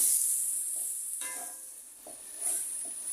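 Onions fry with salt in a pan, a steady high sizzle with a few soft stirring scrapes, close and alone with no voices.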